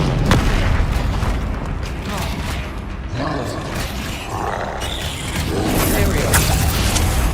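Bombarda and Confringo spells go off in Hogwarts Legacy, loud booming blasts and crackling bursts over a busy combat din, with a voice calling out in the middle of the action.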